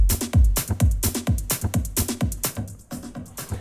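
A techno kick drum pattern with a filter effect switched on thumps in a steady four-on-the-floor rhythm, each hit a punchy low boom with a swept, filtered top, playing alone at moderate loudness.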